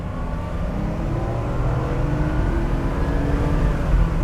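A 1986 Porsche 911 Targa pulls hard at full throttle, its engine a dense, steady roar with rising tones, loud and close throughout with no talking.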